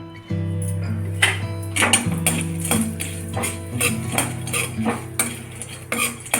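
Cinnamon is dry-roasted with a little oil in a pan for Maharashtrian goda masala, with repeated metallic clinks and scrapes of a utensil against the pan over a steady tonal hum and a faint sizzle.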